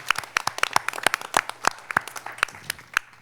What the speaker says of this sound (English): I think we should give Commissioner Weiss a round of applause for the good job that he's done for the village